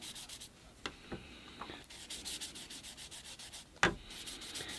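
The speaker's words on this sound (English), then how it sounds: "And this 800 grit sandpaper doesn't take off much at a time." Fine 800-grit sandpaper rubbing over a 3D printed bonsai pot, giving soft, close, repeated scratchy strokes in an uneven rhythm, with one sharper knock partway through.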